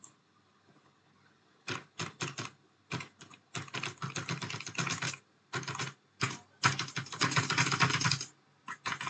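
Keys clack on a Piranha 2345 backlit gaming keyboard in bursts of rapid typing separated by short pauses, close and crisp, with isolated single taps toward the end.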